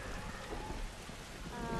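Steady rain falls in The Last of Us video game, a dense, even patter of drops on surfaces with a soft continuous hiss and no talk.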